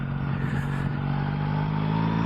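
Yamaha Tracer 9 GT motorcycle on a test ride, engine humming steadily around 3000 rpm with a rising tonal whine and wind rush, heard from the rider's position.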